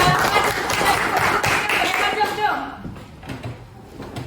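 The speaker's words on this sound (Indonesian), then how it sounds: "Tepuk tangan." Clapping in an interactive Javanese language class after a quiz answer. A short burst of claps fills the first half, loud and close, then fades into quieter talk.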